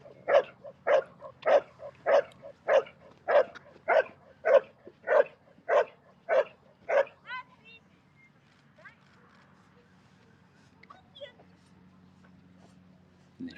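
A dog barks about a dozen times in a steady, evenly spaced burst during bite work training with a helper and handler, loud and close, then stops and leaves only faint background noise.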